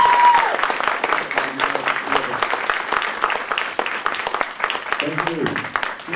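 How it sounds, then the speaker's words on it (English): Audience applause for actor Jim Beaver at a fan Q&A, a dense steady patter of many hands clapping for several seconds with voices mixed in and a few people calling out near the end. "Can I give a round of applause for Jim Beaver?"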